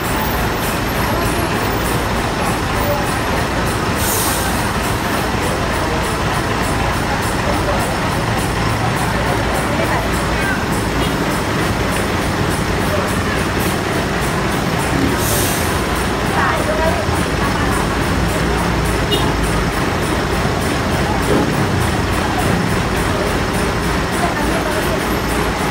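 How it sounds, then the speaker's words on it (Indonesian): A coach bus pulls into a roadside restaurant stop amid a constant, loud rumble of heavy road traffic and idling engines, with a couple of brief hissing air-brake bursts. "Dan masuk satu ini lagi bus MPM Sultan Kelas"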